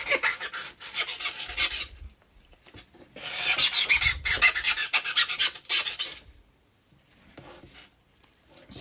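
Foam is being carved and rasped into low relief scenery, producing harsh scratchy scraping strokes in bursts of a second or two, separated by short pauses, close and fairly loud, with no talking.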